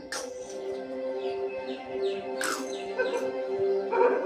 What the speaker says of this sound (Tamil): காட்டு நாய்களின் பெண் தலைவி பீனிக்ஸ் கூட்டத்தை கூட்டுது